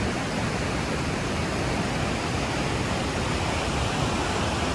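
Waterfalls pour beside the Othello Tunnels, a steady, dense roar of rushing water that holds constant throughout with no voices.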